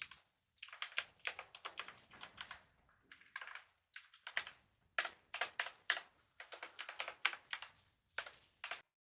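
Rapid clicky button presses on a hardware sequencer in irregular bursts, crisp and close like a mechanical keyboard, with short pauses between runs.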